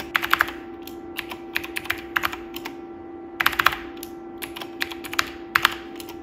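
Keyboard on a 486 computer running Minix, typed in short irregular bursts of clicky keystrokes while a root password is entered, close and clear over a steady electrical hum, with no talking.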